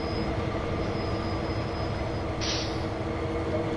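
An SD40-2 diesel locomotive rumbles loudly and steadily during braking in Train Sim World 2 on Sherman Hill, with a sudden burst of brake air hiss near the end.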